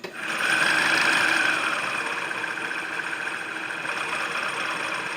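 An industrial sewing machine runs steadily while winding a bobbin, a continuous mechanical whir and hum close by, slightly louder at the start and then settling, with no speech.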